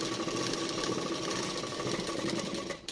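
A domestic sewing machine runs continuously while stitching, a steady, fast, close mechanical chatter that stops abruptly at the end, with no one talking.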